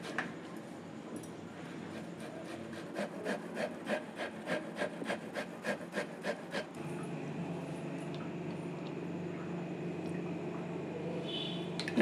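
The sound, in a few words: grating potatoes finely on a carrot grater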